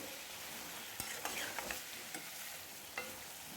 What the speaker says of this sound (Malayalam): മഞ്ഞൾപ്പൊടി ചേർത്തിട്ടും നമ്മളൊരു രണ്ട് മിനിറ്റോളം ഒന്ന് വഴറ്റി കൊടുക്കണം